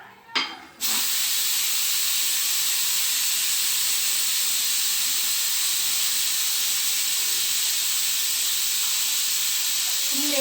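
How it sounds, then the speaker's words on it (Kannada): A pressure cooker vents steam in a loud, continuous hiss after its whistle, starting abruptly after a brief knock and holding steady and close without letting up. "ಸೊ ವಿಸಿಲ್ ಆಗಿದೆ, ಕುಕ್ಕರ್ ಇಳಿಸ್ಕೊತೀನಿ."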